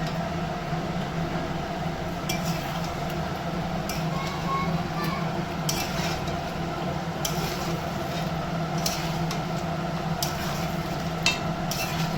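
Chicken being stir-fried with sour yogurt in a pan, a steady low sizzle and hiss with occasional soft spatula scrapes, continuous and moderately close.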